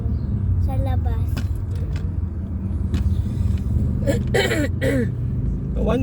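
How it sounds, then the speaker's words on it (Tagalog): A car driven fast on a road gives a steady, loud engine and road rumble throughout, with people talking over it inside the cabin. "kapag mabilis ka, malakas yung tunog ng sasakyan mo sa labas."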